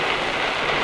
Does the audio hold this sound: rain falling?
yes